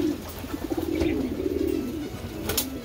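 Pigeons cooing nearby in a loft, a repeated low throaty coo rolling on in soft rhythmic pulses, with a few faint wing flaps and sharper chirps in the background and no talk.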